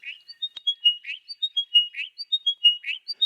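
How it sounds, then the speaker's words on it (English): Small songbird singing close up through a parabolic microphone, a rapid run of clear high chirps and whistled notes in repeating phrases against near silence. "they got this epic recording while carefully approaching the bird"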